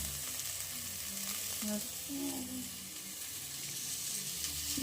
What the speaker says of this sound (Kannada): ಈರುಳ್ಳಿನೂ ಮತ್ತು ಹಸಿಮೆಣಸಿನಕಾಯಿನ ಚೆನ್ನಾಗಿ ಫ್ರೈ ಮಾಡ್ಕೊಳ್ಳೋಣ